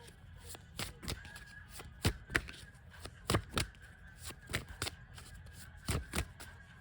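A tarot deck is shuffled by hand in a quiet room, giving a series of crisp, irregular riffling slaps and taps close by, spread over several seconds before a card is drawn.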